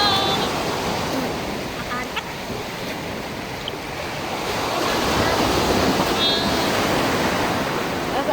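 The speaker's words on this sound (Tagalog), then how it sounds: "Dito kami sa dagat." Sea waves wash onto a beach in a continuous loud roar with gusts of wind across the microphone, close and steady.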